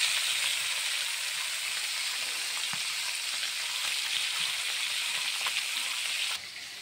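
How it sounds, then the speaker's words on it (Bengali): Cheng fish fry in hot oil in a home kitchen, giving a loud, continuous crackling sizzle with small pops, steady and close, then dropping slightly in level near the end, with no talking. "এই মাছগুলো সুন্দরভাবে ভেজে নিচ্ছি।"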